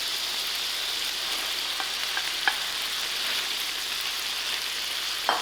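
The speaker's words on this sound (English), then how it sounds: "my rest of the seafood. I'm giving it a quick stir fry." Prawns and other seafood sizzle in a paella pan during a quick stir fry, a steady close crackling hiss with a few faint clinks of stirring.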